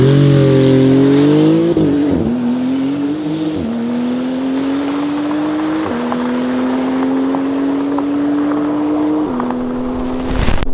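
Modified cars in a drag race, including a Porsche GT2 RS and a BMW, accelerate hard through a sustained engine roar that climbs steadily in pitch with several distinct gear shifts, loud and close throughout.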